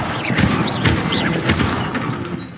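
Expelliarmus spell cast in the video game Hogwarts Legacy, heard as a series of loud booming magical blasts with whooshing sweeps, layered over game effects and no clear speech.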